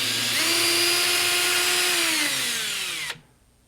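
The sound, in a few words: cordless drill backing out a screw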